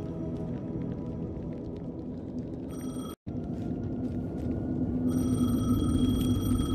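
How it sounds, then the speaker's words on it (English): A telephone rings in Alan Wake 2, repeated bell-like tones over a dark, low rumbling ambient drone, broken by a short silence before the ringing returns. "Phone was ringing."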